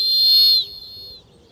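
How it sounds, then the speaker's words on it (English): A loud, piercing mountain whistle blown to scare off bears in the wild: one shrill, sustained blast that cuts off sharply, leaving a thinner lingering tone that fades out. "We got a loud piercing mountain whistle"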